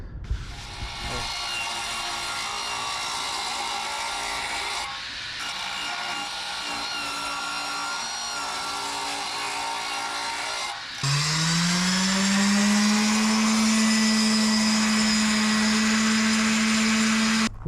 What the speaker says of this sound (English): We are now done with the sanding process. I started at 180 grit and worked all the way up to 400 grit